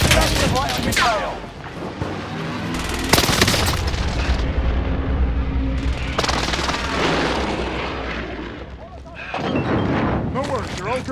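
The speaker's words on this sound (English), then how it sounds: "Enemy precision airstrike." Enemy precision airstrike in Call of Duty: Modern Warfare on Rebirth Island, with a string of loud, close booming explosions and gunfire crackle over several seconds, broken by brief lulls, while a voice speaks.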